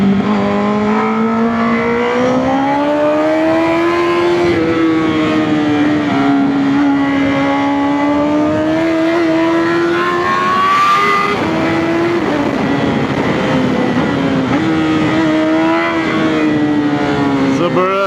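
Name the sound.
Honda CBR 1000 RR motorcycle engine revving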